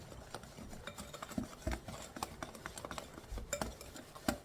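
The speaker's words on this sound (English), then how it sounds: "we're going to take our whisk and we're going to whisk this together" A whisk stirring a dry seasoning mix with Himalayan salt for fried chicken in a bowl: continuous quick light scratchy whisking with soft clicks, close and fairly quiet.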